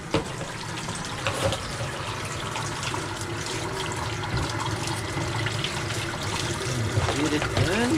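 Water steadily splashing and trickling as a tie-dye onesie is rinsed, a continuous wet patter with occasional louder spatters, voices talking faintly over it.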